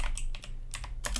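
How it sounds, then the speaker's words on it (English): Quick bursts of keystrokes on a computer keyboard, close and fairly quiet, clicking in short irregular clusters with no talk. "I'm just gonna type some random stuff"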